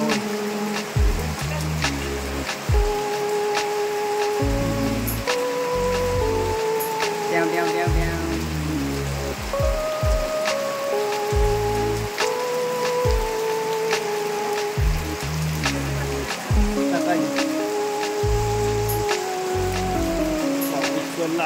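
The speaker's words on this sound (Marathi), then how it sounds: "पाऊस लागतोय" Steady rain falls outdoors around a village home near the forest, a dense continuous patter with deeper rumbling thuds that come and go underneath.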